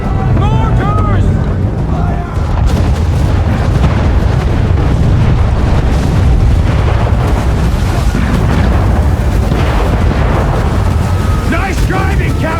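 Mortar blasts and cannon fire roar during a naval battle at sea in Assassin's Creed 3 Remastered, loud and continuous with waves and rumbling, while voices shout over the din.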